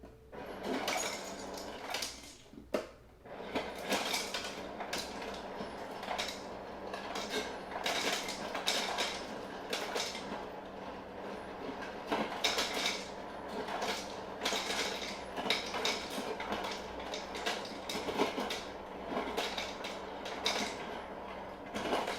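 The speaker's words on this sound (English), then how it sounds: "I'm gonna fill this up with ice." Ice cubes clatter and rattle into a pitcher for raspberry tequila sangria, a dense run of close, bright clinks and crackles lasting throughout, with one sharper knock early on.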